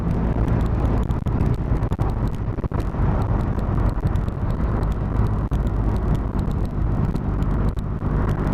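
2020 Triumph Rocket 3 R motorcycle cruising on a road, its engine rumble mixed with heavy wind buffeting across the microphone, steady and loud throughout with no talking.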